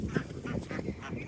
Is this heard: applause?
no